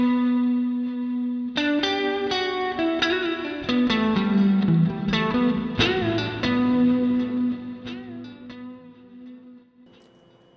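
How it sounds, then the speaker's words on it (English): Plucked, sustained notes run through an Empress Zoia pedal's reverb and delay, each attack smeared into a washy tail with echoing repeats that gradually fade out toward the end. "we should have a little bit of reverb and delay"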